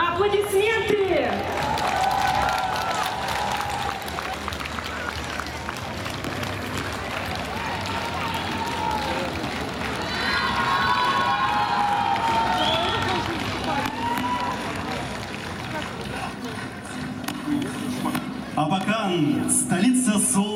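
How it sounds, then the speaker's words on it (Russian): A large outdoor crowd applauds and cheers at a city day concert with a brass band in Abakan, a dense continuous wash of clapping and shouts lasting throughout, with faint music and voices blended into the steady roar. "Аплодисменты!"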